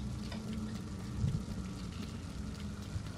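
Running showers in the video game Little Nightmares, a steady hiss of falling water like rain on a hard surface, with low rumbling underneath, continuous and fairly soft throughout.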